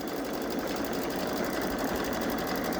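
A Babylock Solaris 3 embroidery sewing machine stitches at a fast, even rhythm, a continuous mechanical whir with rapid needle clatter, close and steady with no talking.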